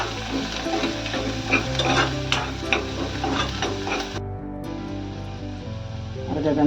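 Val papdi beans stirred in a hot frying pan, a steady sizzle with scraping spoon strokes, close and continuous, briefly dropping out midway before the frying hiss returns.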